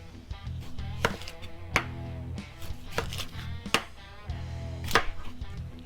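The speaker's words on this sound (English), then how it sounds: "And now we just run our knife through it." A kitchen knife cuts through half a white onion on a cutting board in close, crisp chops, one roughly every second, each with a sharp tap on the board.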